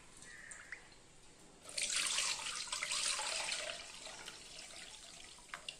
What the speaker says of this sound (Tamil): நல்லா கலக்கி விட்டு இப்போ இதை நம்ம வடித்து எடுத்துக்கலாங்க